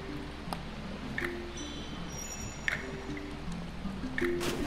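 A character in the video game The Last Tinker falls into water, producing soft splashing and dripping with a few light liquid squishes spread across a few seconds, moderately quiet against game background sound.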